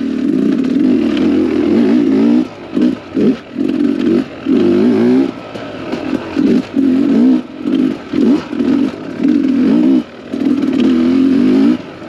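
A two-stroke dirt bike with a Smartcarb engine rides past loudly and close, its buzzing exhaust repeatedly rising and cutting off as the throttle opens and closes in rapid bursts, with no voices.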